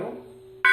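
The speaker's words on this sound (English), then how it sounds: "Let's hit the middle." A fading low hum from a metal cylinder bell gives way to a sudden bright strike near its middle, which rings at a higher pitch at the very end.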